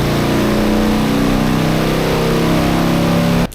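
A Harley motorcycle engine roars at steady high revs during a dyno run, a loud sustained drone with a strong low tone that cuts off abruptly near the end.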